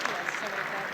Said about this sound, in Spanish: Sí, un aplauso, por favor.